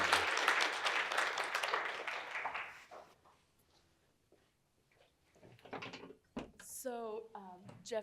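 Audience applause at a celebration: a burst of clapping opens loud and fades out over a few seconds. A quiet lull follows, then people begin talking nearby.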